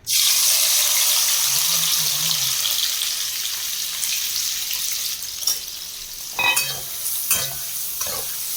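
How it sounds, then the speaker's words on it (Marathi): Onion frying in oil and butter in a wok for pav bhaji, a steady loud sizzle that slowly eases, with a few sharp stirring scrapes and clatters near the end. "आता आपण कढईमध्ये तेल आणि थोडं बटर टाकलेलं आहे. आता आपण कांदा टाकून घेणार आहोत."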